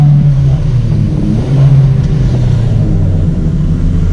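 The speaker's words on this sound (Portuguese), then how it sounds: "O que vocês acharam do barulhão da saveira aí?" Loud, close Volkswagen Saveiro engine fitted with a relocated sport air filter, a deep throaty drone holding steady with slight swells throughout, no voices over it.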